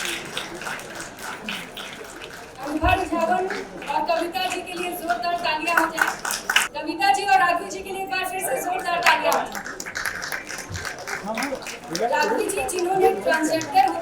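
Audience applause at a women's honours award ceremony, the Lokmata Ahilyabai Holkar Mahila Samman 2025, with steady clapping running throughout under loud voices and hall noise.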